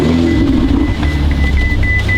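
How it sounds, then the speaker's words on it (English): A loaner car's engine idles with a steady low rumble close by, a thin electronic tone chiming repeatedly over it. "You can hear the engine as it comes up or as it comes on"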